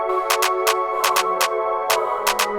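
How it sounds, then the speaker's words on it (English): Sustained synth pad chords from an EDM remix of elevator music hold steady tones under a series of sharp rhythmic percussive hits, clean and studio-produced, with no voices. "So these are the pads."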